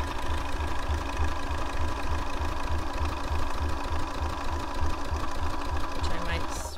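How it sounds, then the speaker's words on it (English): Sewing machine running steadily with a zigzag stitch on fabric for an accordion fabric book, sewn with cotton thread, giving a continuous close rhythmic whirr throughout. "I have a zigzag, but I could just as easily do a straight stitch."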